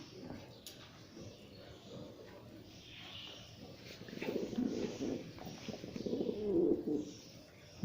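Low soft cooing from pigeons, swelling in a few rounded bursts against a quiet background with faint rustling.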